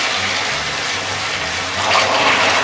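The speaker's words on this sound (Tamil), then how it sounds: "ஒரு டம்ளர் சுடு தண்ணி வந்து இதில் ஊற்றிக்கிறேன்." Hot water poured from a tumbler into sugar melted brown in a pan for plum cake, a steady bubbling hiss and gush running throughout and swelling slightly toward the end.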